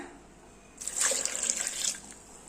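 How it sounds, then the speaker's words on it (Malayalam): Cold water pours in a short, steady splashing rush while making pineapple juice, rising suddenly and fading after about a second, close by with no talking. "ഇനി വെള്ളം ചേർക്കാം തണുത്ത വെള്ളമാണ്"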